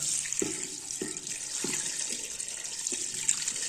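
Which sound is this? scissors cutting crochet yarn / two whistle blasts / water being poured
water being poured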